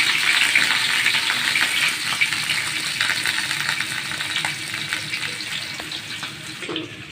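Cleaned prawns frying in hot oil, a steady dense sizzle and crackle running throughout at close range, easing slightly toward the end, with no voices.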